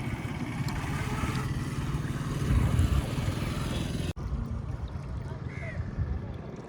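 A 2000-rupee RC boat bought on Amazon runs on water, its small motor a steady buzzing churn with splashing and wind noise, a brief cut midway, then continuing a little softer.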